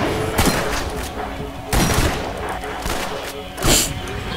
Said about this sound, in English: this shotgun like kills all these things in one hit